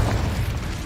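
A Confringo spell explosion from Hogwarts Legacy, a continuous dense booming burst filling the whole moment, loud and close with heavy low rumble and no talk.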